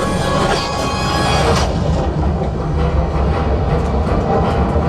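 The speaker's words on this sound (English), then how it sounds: "There's the train." Rumbling train effects inside the Millennium Falcon: Smugglers Run ride at Disneyland, a loud, dense roar with rattling clatter that continues steadily throughout.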